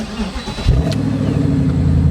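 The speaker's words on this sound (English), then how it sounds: "That is the nicest sounding N62 I think I've ever heard." A Morgan Aero Supersports with a BMW N62 V8 fires up at the starter button, a sharp catch followed by a loud, close, steady deep engine rumble with a slight rev as it settles into idle.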